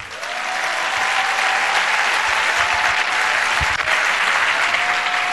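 A church congregation at a Pentecostal-style service applauds in sustained, dense clapping that fills the room, loud and continuous throughout with no clear speech.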